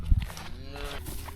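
Cattle in a field herd moo, one long, low drawn-out call close by over faint outdoor background noise.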